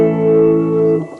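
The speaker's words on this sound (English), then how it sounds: "I'll put on some really heavy reverb on the guitar so you can hear the differences." A single sustained electric guitar chord rings out with heavy reverb, holding steady for about a second before fading into a washy tail.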